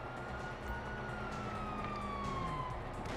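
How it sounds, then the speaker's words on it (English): A police siren in Grand Theft Auto V wails steadily at a distance, its pitch sliding slowly downward over a constant rumble of engine and ambient noise. "you hear that? Sirens!"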